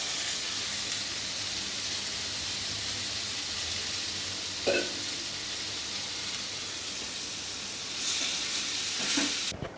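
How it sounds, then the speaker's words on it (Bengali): Potatoes added to onions and turmeric in a frying pan hiss with a steady, close sizzle throughout, with a brief clatter near the middle and another toward the end. "এই যে পেঁয়াজের মধ্যে আলু ছেড়ে দিলাম"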